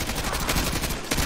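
Dense, continuous gunfire during a street fight in the Call of Duty: Modern Warfare 2 Campaign Remastered, a loud unbroken rattle of automatic weapons over the whole moment.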